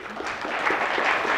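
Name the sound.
audience applause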